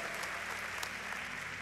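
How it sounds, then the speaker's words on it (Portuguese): Church congregation applauding during a sermon, a dense, even roar of clapping heard from a distance over a low steady hum, unbroken throughout. "Pode dar uma salva de palmas"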